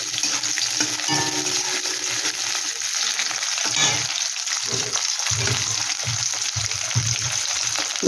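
Onion and capsicum fry in a pan for chilli baby corn, giving a steady, close sizzle with intermittent stirring scrapes and clatter over it, and no talking.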